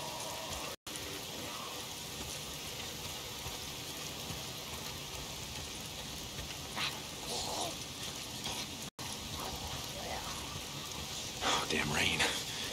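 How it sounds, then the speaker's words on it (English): Steady rain in the video game Days Gone patters and hisses throughout, with a few brief louder splashes and scattered faint sounds over the dense downpour. "If it's not the freaks, it's the goddamn rain. Why is it always raining?"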